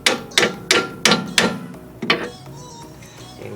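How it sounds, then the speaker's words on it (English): A hammer strikes a car's front ball joint several times to seat it, five or six sharp, close metallic whacks in an uneven rhythm during a suspension repair, with no talking. "give it a little whack to center it."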